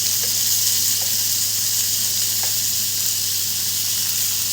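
Mixed seafood for pancit sautés in a pan, a steady close sizzle with a low hum underneath and a few faint clinks of stirring.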